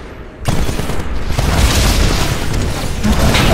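Titan crashing down from the sky in the video game Titanfall, a sudden heavy boom followed by sustained roaring rumble and crackling impact noise, loud and close, with no talking.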